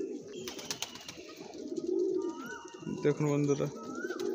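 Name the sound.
old bloodline pigeons cooing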